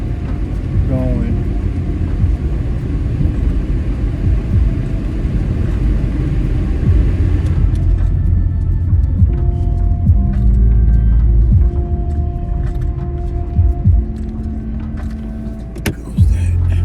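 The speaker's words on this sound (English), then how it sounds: "if you hear the air, that's the air conditioning going" Inside a car, the air conditioning blows a steady broadband rush of air under a low engine rumble; the airflow eases off partway through, leaving quieter cabin sounds and a few small clicks.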